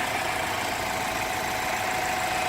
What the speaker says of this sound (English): Get a little noise from that little engine.